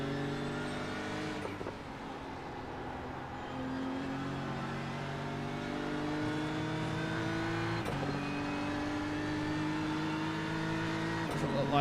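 Engines of a BMW and a Porsche race car in a sim racing game at Okayama, droning steadily throughout with rising revs and gear shifts, under continuous commentary.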